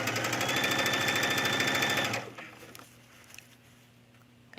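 A sewing machine stitching the top collar of a tunic runs in a fast, steady whir for about two seconds, then stops, leaving quiet room tone with faint handling sounds.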